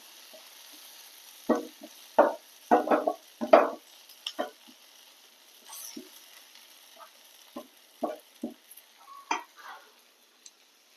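Intermittent scraping and clinking as ground black pepper is stirred in a pan, with irregular strokes over a faint, quiet sizzle.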